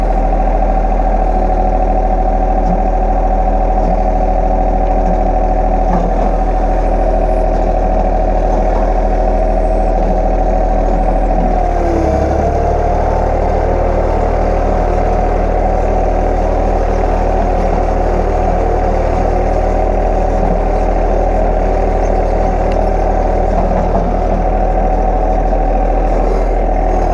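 A tractor engine runs continuously, loud and close, with a steady low rumble and a short dip and change in engine tone about halfway through.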